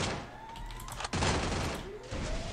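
USP pistol shots in a first-person shooter game crack out in a couple of quick bursts against faint background game noise, fairly quiet overall.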